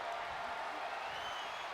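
Arena crowd in the WWE 2K23 wrestling video game roars and applauds in a steady, dense wash of cheering, heard alone without talk.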